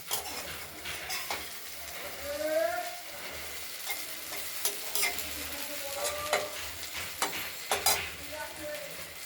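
Chopped onion stalks fry in oil in a kadai with a soft, continuous sizzle, punctuated by scattered scraping and metallic clinks as they are stirred.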